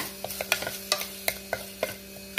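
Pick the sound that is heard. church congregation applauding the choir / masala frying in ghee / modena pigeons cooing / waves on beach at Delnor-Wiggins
masala frying in ghee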